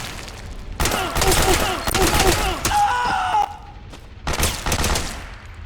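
Gunfire bursts from the video game Metal Gear Solid 4, loud rapid volleys in several clusters with brief gaps, mixed with other game effects and a voice.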